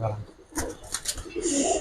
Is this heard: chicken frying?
no